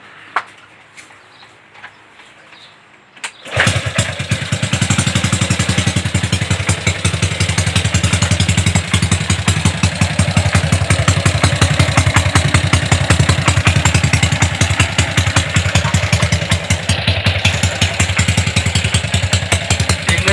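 After a few seconds of quiet, a Honda Wave 110i motorcycle with an aftermarket exhaust starts and idles with a loud, rapid, throaty exhaust burble that stays steady throughout.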